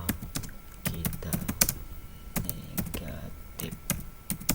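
Rapid clatter of typing on a computer keyboard, irregular bursts of keystrokes close to the microphone, with no talking.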